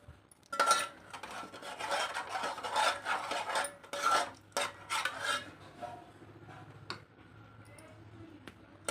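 Potato curry is spooned onto hot puris in a Telangana-style kitchen, giving close scraping and rubbing sounds with light clinks of a spoon against a plate that taper off toward the end.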